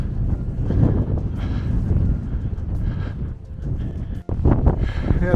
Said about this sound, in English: wind and the mist are blowing in